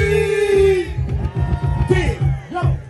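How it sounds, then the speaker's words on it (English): Crowd at a Bronx hip hop 50th anniversary concert screaming and yelling loudly and continuously over the booming bass of the live music. "Now everybody scream."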